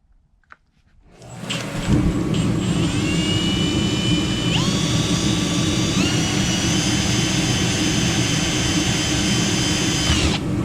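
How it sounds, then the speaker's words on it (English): An old electric drill spins up to a loud, sustained high whine with shifting pitch as it bores holes for radiator guards on a Yamaha YFZ450R, running steadily for several seconds. "The old drill over here."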